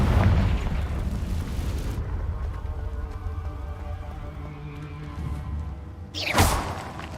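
Confringo fire explosion spell in Hogwarts Legacy: a loud booming burst at the start that rumbles away, then a second sharp whooshing blast near the end.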